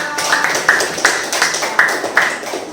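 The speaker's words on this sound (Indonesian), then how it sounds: "tepuk tangan dulu untuk David, tepuk tangan juga untuk Rafa" Students in a classroom clap in applause for classmates David and Rafa, a quick, fairly regular series of about seven sharp claps from a small group, close and moderately loud.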